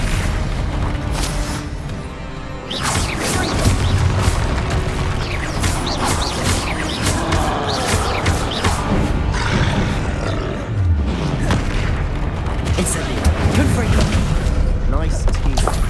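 Bombarda and Confringo spell blasts booming repeatedly in Hogwarts Legacy during a troll fight, with heavy roaring impacts layered over a continuous loud battle din and voices calling out spells.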